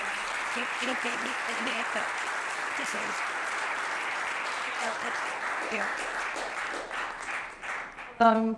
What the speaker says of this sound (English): We can give a round of applause to them.